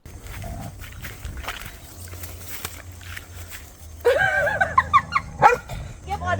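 A dog barks and yips in short sharp bursts in the latter half, close by, following a stretch of quieter shuffling and low background sound, with a voice talking.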